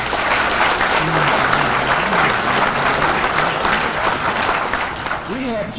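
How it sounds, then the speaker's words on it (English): An audience at a Legion gathering applauds loudly and steadily for several seconds, a dense wash of clapping with faint voices rising beneath it toward the end. "Let's have a nice round of applause for you."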